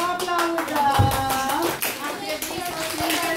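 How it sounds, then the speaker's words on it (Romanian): A children's audience at a school European Languages Day event claps in a quick, dense patter of hand claps mixed with voices and background chatter. "O aplaudă!"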